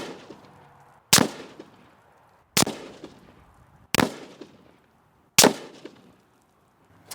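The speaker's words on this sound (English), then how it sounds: "now we're just gonna shoot another group at the bottom square of tape" Rifle fired with M193 ammunition through a red dot sight at a taped target: four sharp, loud shots, evenly spaced about a second and a half apart, each ringing out and decaying into quiet.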